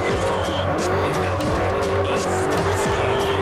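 Bugatti Veyron drifting in the Forza Horizon racing game, a loud, steady engine roar with sweeping pitch changes and repeated tire squeals through the corners, heard alone without talk.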